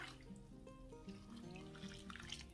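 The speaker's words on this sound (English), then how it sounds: "I'm just gonna take my warm water, gonna add it into my bin" Warm water poured into a bin of potting soil for starting onion seeds, a soft steady trickling pour, faint and close, with no talk.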